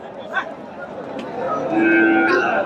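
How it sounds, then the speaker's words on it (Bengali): A year-old Friesian bull at a crowded cattle market in Chandaikona, Bangladesh gives a low, drawn-out moo toward the end, rising over a steady murmur of the surrounding crowd. "এই যে ফ্রিজিয়ান জাতের সার গরু"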